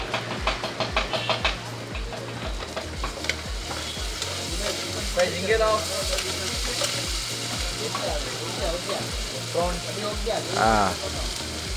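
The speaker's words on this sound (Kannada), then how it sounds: "ಗಾರ್ಲಿಕ್ ಪೇಸ್ಟ್ ಹಾಕ್ತಾ ಇದ್ದಾರೆ ಇವಾಗ." Garlic paste sizzles loudly in a hot pan at a Diu seafood stall, with steady frying hiss, stirring scrapes and a low rhythmic thumping from the busy stall nearby; faint voices mix in.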